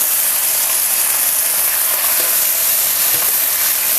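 Chopped tomatoes and garlic sautéing in a hot pan for egg biryani give a loud, steady, bright sizzle that holds evenly throughout with no voices.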